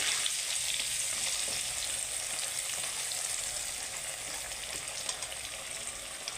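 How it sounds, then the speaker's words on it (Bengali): Potato and papaya pieces frying in hot oil, a dense continuous sizzle held close and steady throughout with a faint soft stirring texture, no talking. "আলু পেঁপেটা লাল লাল করে ভেজে নেব।"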